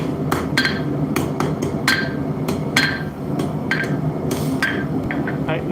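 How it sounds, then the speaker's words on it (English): Heavy hammer forging 3/8 inch steel stock on an anvil, struck repeatedly in a fairly steady rhythm of sharp metallic hits close by, over a constant background roar like a forge fire. "I don't need this heavy of a hammer"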